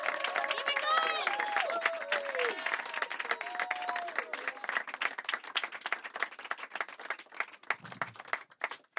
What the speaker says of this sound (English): Keep it clapping until he gets here.